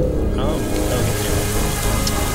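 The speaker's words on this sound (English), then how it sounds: "Ooh, it's raining." Dark rain falls in the World of Goo video game, a dense, loud, steady hiss of rainfall that fills the whole moment without pause.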